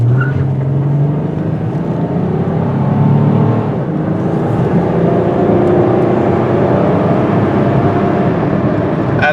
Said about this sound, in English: I'm going to really step on the gas now.